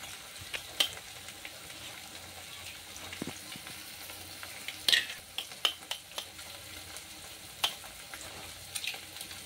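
Eggs frying in a pan with spiced masala for spicy village-style egg bhurji, a soft steady sizzle with occasional sharp clicks and scrapes of stirring, close and fairly quiet.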